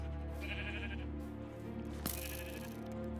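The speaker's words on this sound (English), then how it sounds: "the skeleton is killing the sheep" A Minecraft sheep bleats twice in quick succession while a skeleton attacks it, the short wavering cries clear over a steady game background hum.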